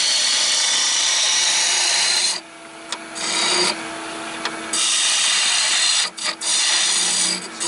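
A wooden Dalek replica body spins on a lathe as a tool cuts it, producing a loud, continuous scraping hiss close by that breaks off briefly a few times before starting again, with no voices.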